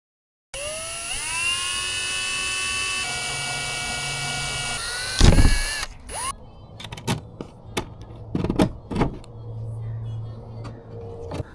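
A high-pitched power drill whines steadily while drilling pilot holes, its pitch rising and falling, then a few sharp clunks and bumps as it stops and restarts.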